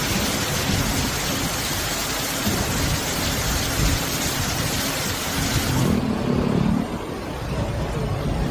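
Heavy rain from Typhoon Gaemi pours in a dense, steady roar, with low thunder rumbling beneath the downpour throughout.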